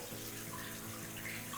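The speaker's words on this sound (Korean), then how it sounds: "들려오는 이 시냇물 소리가 너무나도 아름답게 느껴지네요." Steady rushing water flows continuously throughout, a constant broadband wash like a small stream, fairly soft and unbroken, from a stream-like water feature in a sunken courtyard of a detached house in Pyeongchang-dong, Seoul.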